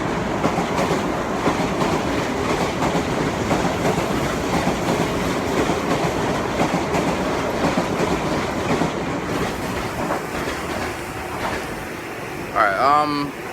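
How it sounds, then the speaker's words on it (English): A train passes close by, a loud sustained rumble with rail clatter and clickety-clack that fades slightly toward the end, followed by a brief squeal. "is that my train?"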